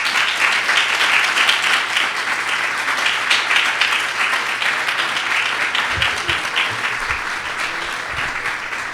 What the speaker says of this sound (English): So please give a round of applause for David Breslin.